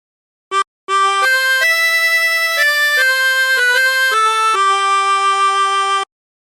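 A chromatic harmonica plays a slow phrase of How Great Thou Art in sustained reedy notes, each held and changing pitch in steps, clear and close with no talking.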